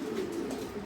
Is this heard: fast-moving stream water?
no